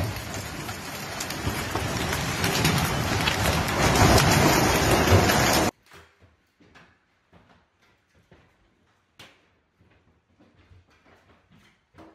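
Heavy rain pouring during catastrophic flooding in Italy, a dense loud downpour for several seconds that cuts off abruptly, followed by near-silence with faint scattered knocks.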